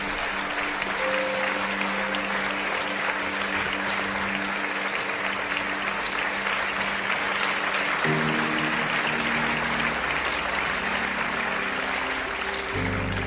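An audience gives sustained, dense applause to welcome Mr Yuvraj at a Ludhiana Citizen Council function, steady and loud throughout with a faint background tone.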